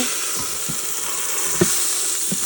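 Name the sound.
pot roast searing in Instant Pot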